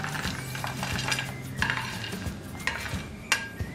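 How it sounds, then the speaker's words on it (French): Korean seafood soup with miso being stirred in a pot, a utensil scraping and clinking against metal in several distinct knocks over a soft simmer, close and without speech. "Mélangez. Donc vous remuez constamment."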